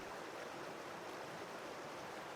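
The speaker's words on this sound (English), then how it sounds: "There's something about the sound of the river that just puts you into like a tranquil headspace." A river in South Dakota flows steadily in a fly-fishing setting, a continuous broadband rush of water with no pauses or voices.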